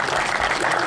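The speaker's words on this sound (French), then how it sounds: "vous pouvez les applaudir pour tout le travail effectué" A crowd at a fishing championship in La Roche-sur-Yon applauds the event organisers, dense close clapping filling the whole short moment.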